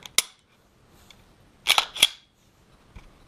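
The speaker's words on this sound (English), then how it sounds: "rack the slide before I take my next shot" Slide of a LaserLyte laser training pistol being racked, a sharp mechanical click followed by a quick double clack, close and crisp with a faint tap at the end, no talk.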